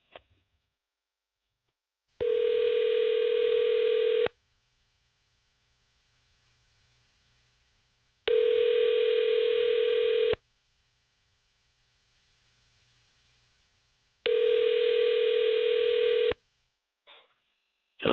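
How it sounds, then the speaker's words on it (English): A telephone call placed on air by radio hosts: three long, evenly spaced ringing tones with quiet gaps between them and a faint click near the end, no voices. "Okay, we're going to call him right now."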